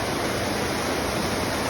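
Close, continuous roar of water flowing along a river on Dartmoor below Venford Falls, a thick uniform hiss and rumble with no talking over it.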